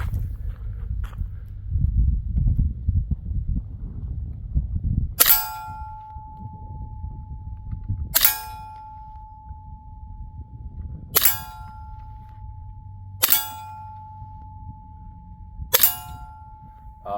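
Five sharp shots from a ViperX .30 caliber PCP air rifle, evenly spaced about three seconds apart, each a crisp crack with a brief ringing metallic tone after; low rustling and handling noise before the first shot.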